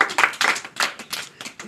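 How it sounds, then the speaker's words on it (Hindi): Hands clapping in a short run of separate, irregular claps, fairly close and moderately loud, during a comic magic trick with a sheet; no talking over them. "इधर ताली बजा दिया।"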